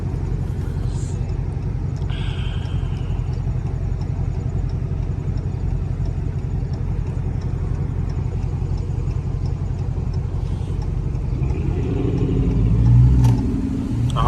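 Chrysler 300C engine idling, a low steady rumble running throughout and swelling slightly near the end, with someone talking over it.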